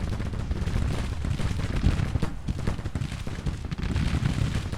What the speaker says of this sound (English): we can just overwhelm the enemy with these artillery barrages